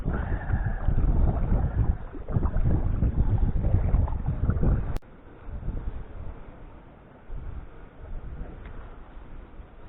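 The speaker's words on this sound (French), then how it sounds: "Il y a du vent" Gusty wind buffets the microphone outdoors by a lake, loud at first and then easing into a softer, steady rush.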